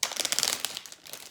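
A plastic bag crinkles and rustles in quick, close bursts of crackling handling, loud and alone for about a second before it eases off.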